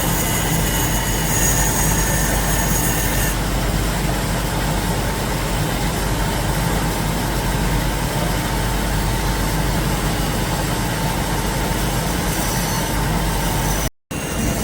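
Diamond-tipped wheels cut Waterford crystal in a factory workshop, a loud continuous grinding roar with a faint high whine, steady throughout until a brief dropout near the end.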